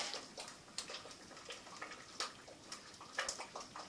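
Chopped rhubarb pieces being washed, splashing and sloshing in water in quick irregular bursts, close but quiet.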